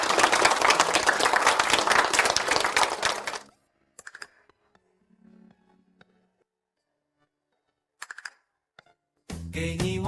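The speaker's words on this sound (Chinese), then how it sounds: "让我们以热烈的掌声恭喜辛之遥同学！" A classroom of students applauding warmly to congratulate a classmate, a dense burst of many clapping hands for about three seconds before stopping abruptly, followed by a few scattered sounds and a louder swell at the end.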